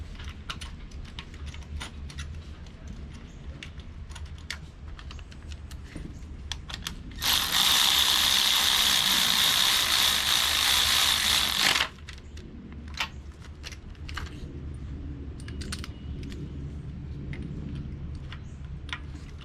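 A ratchet tightens spark plugs in a Chevy Cruze 1.4L turbo engine, giving close, rapid clicking bursts with scattered clicks before and after, plus a loud steady hiss lasting about five seconds midway.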